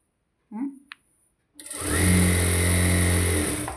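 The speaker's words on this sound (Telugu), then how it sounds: "చూడండి, ఎంత స్పీడ్గా కుట్టినా కూడా నార్మల్గా వచ్చేస్తుంది కుట్టు అనేది" A sewing machine stitching piping starts up after a few brief handling knocks and runs fast in a steady, loud, continuous whir for about two seconds.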